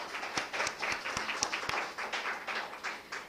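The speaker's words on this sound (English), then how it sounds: "let's just clap for each other" A student audience at a school grand finale claps for one another, with a short spell of scattered, uneven hand claps from a modest group.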